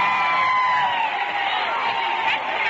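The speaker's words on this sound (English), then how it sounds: "Now listen to this cheering." A huge crowd in Washington in 1927 cheers and shouts for Charles Lindbergh, a loud continuous roar of voices and whoops, heard through a thin, narrowband old radio recording.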